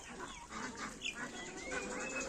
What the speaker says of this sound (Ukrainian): кури ще щось бігають, копошаться